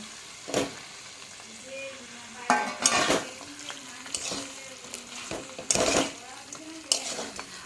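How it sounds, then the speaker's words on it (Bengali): Bhetki fish bones and fried potatoes being sautéed in a pan, with a steady sizzle broken by sharp scraping and stirring bursts and clinks of a utensil against metal, plus faint background voices. "এরপর আমি মাছের কাঁটা আর ভেজে রাখা আলু এর মধ্যে দিয়ে কিছুক্ষণ কষিয়ে নেব"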